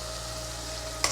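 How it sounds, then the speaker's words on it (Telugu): A ground paste fries in groundnut oil with curry leaves for a Godavari-style crab curry, hissing in a steady close sizzle, with one brief, sharper crackle near the end. "మనం ఇప్పుడు చేసుకున్న పేస్ట్ ఉంది కదా, అది కూడా వేసేసుకొని వేపుకుందాం"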